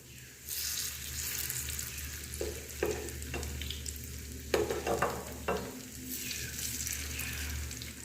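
Eggplant pakora frying in hot oil, a continuous crackling sizzle close by that flares in sharp bursts as pieces are stirred and turned.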